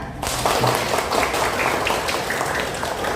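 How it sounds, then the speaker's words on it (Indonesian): A class gives a round of applause at the start of a lesson. The clapping is steady and close and begins after a brief quieter moment, with faint voices mixed into the wash. "Oke, kalau sudah siap, mana tepuk tangannya?"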